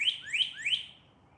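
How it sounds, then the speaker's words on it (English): Small birds calling outdoors during a yoga session, three quick rising high-pitched chirps in a row at an even pace, clear and moderately close, then fading to a quiet background. "The birds seem very active today."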